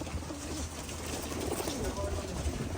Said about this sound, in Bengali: এই দেখুন আমাদের পায়রাগুলো দেখুন।